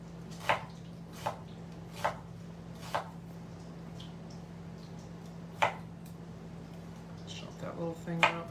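A knife chops through a corn root stem on a cutting board, giving sharp, evenly spaced taps about once a second at close range. A short gap follows, then more cuts speed up near the end, with quiet talk in the room.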